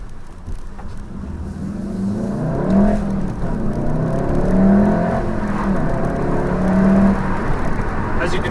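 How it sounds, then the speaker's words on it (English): A Volkswagen Golf R hot hatch accelerates, its engine and exhaust note rising through rhythmic climbing tones heard from inside the cabin, fairly loud and close, with a brief dip where a gear change breaks the pull. "This car picks up speed like that."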